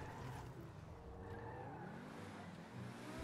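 A Grotti Tempesta sports car races at high speed in GTA 5 Online, its steady engine roar with faint tire squeal running continuously and fairly loud throughout.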